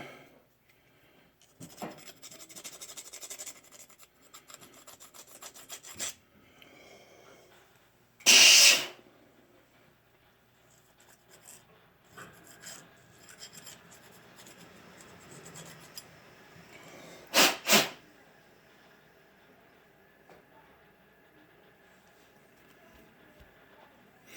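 Small round file scraping out a hole in a wooden duck call tone board, a soft, close rasping and rubbing that comes and goes over a long stretch, broken by a few louder bursts.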